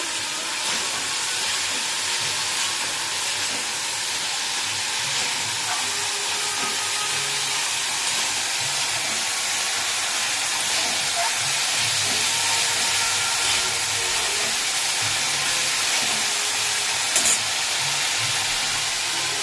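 Spices frying in oil for a pea-lentil dish, a steady, bright sizzling hiss that continues evenly without talk throughout.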